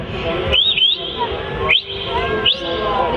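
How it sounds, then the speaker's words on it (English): Three sharp, upward-sweeping shepherd's right-hand whistle blasts to a herding dog at a Dorset steam fair, evenly spaced and loud, over steady outdoor background noise. "That's his right hand whistle."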